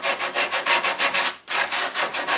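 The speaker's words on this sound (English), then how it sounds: "use just a little bit of sandpaper. It smooths it out a little bit." Sandpaper rubs back and forth across wood in a rhythmic series of about a dozen close, raspy strokes, with a brief pause midway before the strokes resume.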